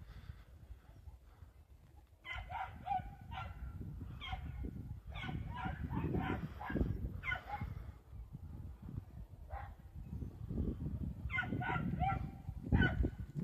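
Dogs whine and yelp in short, high-pitched bursts, fairly close, over a low rumbling background and crackling.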